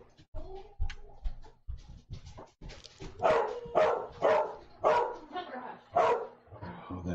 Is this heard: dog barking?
yes